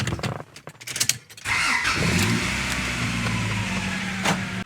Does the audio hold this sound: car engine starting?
yes